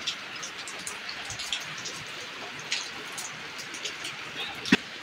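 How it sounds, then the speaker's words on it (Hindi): Steady rain comes down outdoors onto wet sand after a long morning downpour, making a close, dense patter broken by a few sharper drips and taps. "और अभी भी बारिश हो रही है, ये देखें।"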